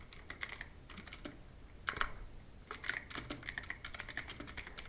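Typing on a computer keyboard, with quick, close clicking keystrokes in uneven bursts and short pauses, fairly quiet with no talk.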